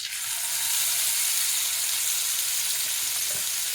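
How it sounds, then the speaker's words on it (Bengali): Fish coated with turmeric, chili and salt fry in hot oil, giving a steady, close, unbroken sizzle with no voices. "মাছগুলোতে হালকা হলুদ এবং লবণ মিশিয়ে, হালকা হলুদ মরিচ এবং লবণ মিশিয়ে আমি ভেজে নিচ্ছি।"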